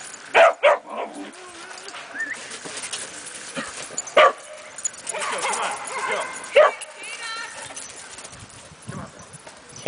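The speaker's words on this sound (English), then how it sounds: "Now he's barking at a little baby shebeen." A 19-week-old whippet puppy at a dog park gives several sharp, high yips and barks in short bursts, scattered among whimpers and outdoor background noise.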